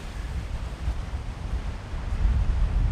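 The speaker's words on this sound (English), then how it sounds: "I'm sure the river level's gone up slightly. Definitely looks a bit more fierce than it was yesterday." The swollen river in Tavy Cleave on Dartmoor rushes as a continuous, fairly loud low roar, with gusty wind buffeting the microphone and no voices.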